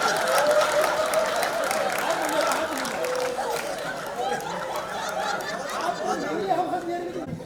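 An audience at a live music event applauds continuously, dense clapping mixed with crowd chatter and a voice talking throughout.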